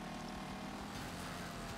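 Starter car engine in the demolition-derby racing game Wreckfest, a steady droning motor hum that runs loud and unbroken throughout with no pauses.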